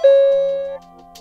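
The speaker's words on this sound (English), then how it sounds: "We've had chimes in our vehicles for years" A Ford vehicle feature chime rings once, a clear bell-like tone that sustains and slowly decays, close and alone.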